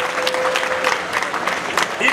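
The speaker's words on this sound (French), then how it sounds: "Applaudissez-la" Audience applause at a Cameroon national day celebration held at an embassy residence in Dakar, a steady burst of clapping from a gathered crowd lasting a couple of seconds, with a faint tone and some voices mixed in.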